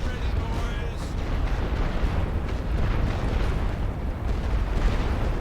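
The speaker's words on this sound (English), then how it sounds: "Suppression barrage ordered." Artillery suppression barrage in The Great War: Western Front, a dense, continuous rumble of booming shell blasts and bursts rolling on without pause, with a voice talking over it.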